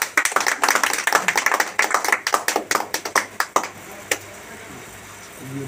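An audience at a DXN company event claps in quick, uneven bursts close by, the clapping thinning out and fading to near quiet.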